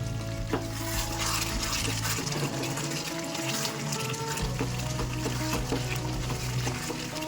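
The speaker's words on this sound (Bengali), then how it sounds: "ঢাকনাটা খুলে একটু চিকেনটাকে নাড়িয়ে দেবো" Chicken for a Bengali black pepper chicken curry being stirred in a pan once the lid comes off, a steady watery simmer and bubbling with scraping spoon strokes, close and continuous.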